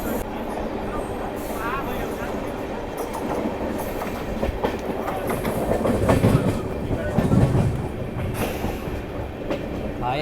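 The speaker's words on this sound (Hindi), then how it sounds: "क्योंकि सामने से आ रही है भाई अपनी सरायघाट एक्सप्रेस" The oncoming Saraighat Express passes close by, heard from aboard a moving train on the Malda Town to New Jalpaiguri route: a steady loud rumble with clickety-clack wheel rhythm and swelling wind-rush for ten seconds, no speech.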